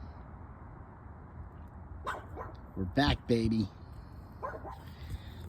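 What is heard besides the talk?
dog barking and whimpering on a walk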